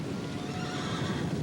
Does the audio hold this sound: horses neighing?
yes